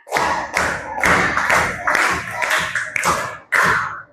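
A group claps in a rhythmic 'tepuk semangat' routine during a teacher training session, a series of loud bursts of many hands in quick patterned clusters with short pauses between them.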